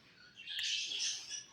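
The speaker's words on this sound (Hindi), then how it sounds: "अब कुत्ते चुप हुए तो चिड़िया चालू हो गई" Birds chirp steadily outdoors, a faint, continuous bright twittering with one sharper call near the start, heard alone with no talking.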